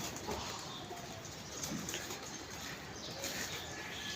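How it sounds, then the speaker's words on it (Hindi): Pigeon cooing in a loft kept by a pigeon club, soft low coos repeating over a steady background hiss, fairly faint and close, with no talking. "ये फेवरेट है यार मेरा कबूतर"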